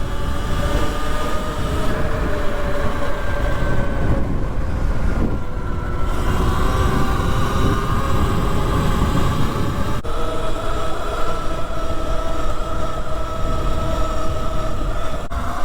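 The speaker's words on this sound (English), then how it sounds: "There's the train." A train rumbles past close by for the whole stretch, a loud steady roar of rail noise with a faint whine of wheels, no voices over it.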